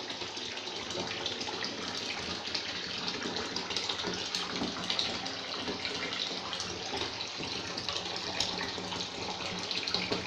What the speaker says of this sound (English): And look at it fizzing!